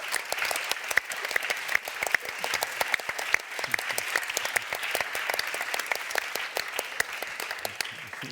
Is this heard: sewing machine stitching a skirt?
no